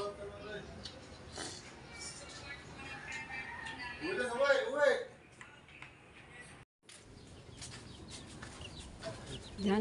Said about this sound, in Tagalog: Kaya may manok pa kaming tandang doon.